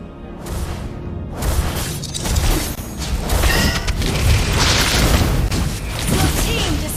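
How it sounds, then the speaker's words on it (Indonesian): A turret crumbles in the Mobile Legends mobile game with a loud crashing boom and rumbling debris, layered with other battle effects and overlapping announcer-style game voices. "Your team destroyed a turret."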